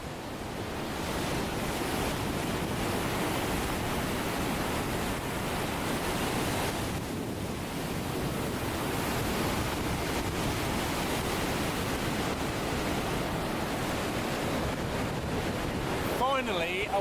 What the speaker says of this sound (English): finally a waterfall that's worth taking a photo of.